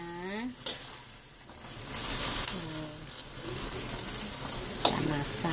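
Cleaned shrimp sizzle and fry steadily in a hot pan for sweet and sour shrimp, with a few louder crackles and clinks of a utensil; a voice briefly sounds at the start.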